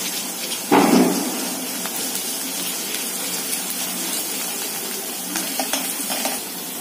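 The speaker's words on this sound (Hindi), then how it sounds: "अब हम डालेंगे 1 चम्मच अदरक लहसुन का पेस्ट" Ginger garlic paste dropped into onions frying in hot oil in a kadhai sets off a sudden loud hiss near the start, then settles into a steady close sizzle with light stirring clicks.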